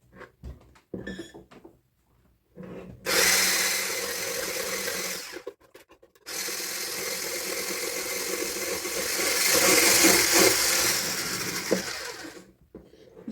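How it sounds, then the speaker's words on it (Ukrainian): An electric blender whips eggs and sugar into cake batter for a charlotte, running in two long, loud, close bursts with a brief pause between them, after a few quiet clinks at the start. "У нас сьогодні в помічниках буде блендер. Починаємо збивати."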